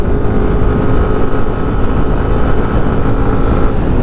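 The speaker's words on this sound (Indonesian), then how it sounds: "Kalau langsung digeber gini," Yamaha FreeGo 125 scooter accelerating hard from about 37 km/h, its engine note a dense, loud, steady drone with a constant low hum and no speech.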